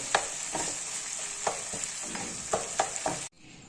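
Mutton keema roasting in a pan, steady close sizzling punctuated by repeated spatula scrapes and taps, ending abruptly as the heat drops to near silence.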